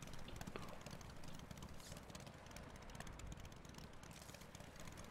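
Droning engine noise from a flooded vehicle in the game Trailmakers, a steady, broadband roar like an aircraft engine or propeller, continuous and fairly faint throughout.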